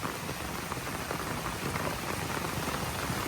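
Rain falls steadily, a dense, even patter of drops hissing on surfaces close by, constant from start to end with no talking.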